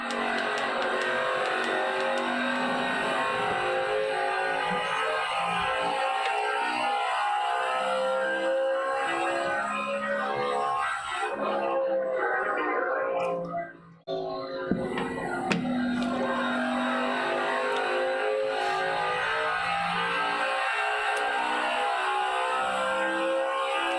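NASCAR race cars in the Ruoff Mortgage 500 roar past the fence at Phoenix Raceway, their loud engine notes rising and falling as a pack streams by, dipping briefly before the next cars scream through.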